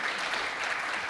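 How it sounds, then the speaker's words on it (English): Audience applause at a shipowners' conference in Japan, a brief steady wash of many hands clapping, moderately distant and without talk. "if you'd like to give them a round of applause"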